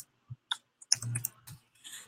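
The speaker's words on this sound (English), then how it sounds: "I'm typing it in right now" Scattered clicks and taps on a computer keyboard as a web address is typed in, a few separate close keystrokes followed by a short cluster, with no talking over them.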